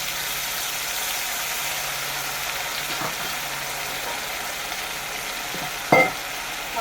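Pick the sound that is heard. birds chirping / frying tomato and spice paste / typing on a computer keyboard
frying tomato and spice paste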